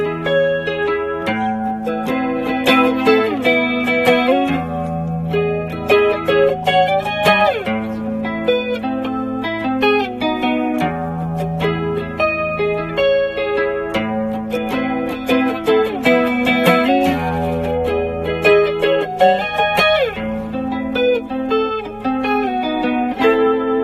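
A band member plays an early jam of a song on effects-laden electric guitar with chorus and distortion, a steady, full, continuous riff with no talking.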